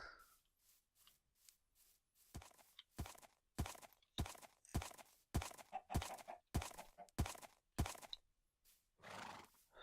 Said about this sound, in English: Oh, it's a horse.